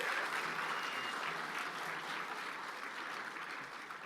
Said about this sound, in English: A large majority of you applauds that.